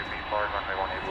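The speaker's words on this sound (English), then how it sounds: "There goes that A300." An Airbus A300 jet airplane at DFW Airport roars with a steady broadband engine rush, heard under someone talking throughout.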